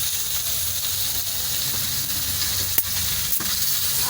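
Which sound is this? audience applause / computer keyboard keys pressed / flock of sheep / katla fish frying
katla fish frying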